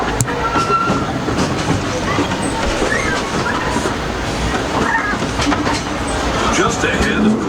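Disneyland Railroad train rolling along its track through a jungle-themed stretch, a steady continuous rumble of wheels and cars with faint clicking, while a voice talks over the ride.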